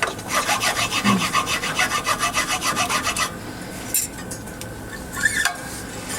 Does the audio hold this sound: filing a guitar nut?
yes